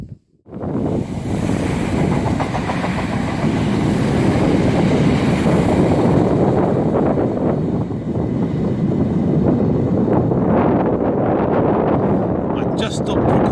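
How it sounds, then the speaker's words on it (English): A train rolls along a railway line beside the Kennet and Avon Canal, a continuous broad rumble and rattle heard nearby for the whole stretch with wind buffeting the microphone. "I suddenly saw the train coming along"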